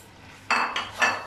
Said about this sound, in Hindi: अच्छी तरीके से मिक्स कर लेंगे और इसे 1 से 2 मिनट भून लेंगे।